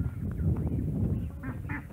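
Ducks quack on a village farm with chickens and geese nearby, giving a few close raspy calls over a dense, rumbling outdoor background.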